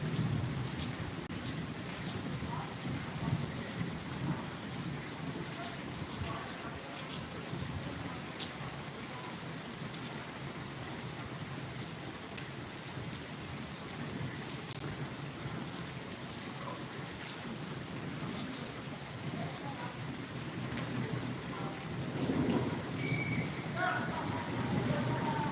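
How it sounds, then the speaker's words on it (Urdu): Heavy monsoon rain pours steadily as a dense, even hiss from start to finish, with no thunder clearly standing out and voices faintly in the background. "ہاں جی یہ مانسون کی بارش ہے"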